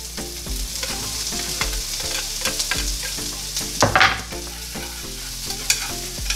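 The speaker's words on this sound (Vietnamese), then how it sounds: "Sau khi mình để tỏi vào chảo á" Garlic and onion frying in a pan, a loud close sizzle with scraping stirring strokes throughout and a brief louder crackling burst near the middle, no voices.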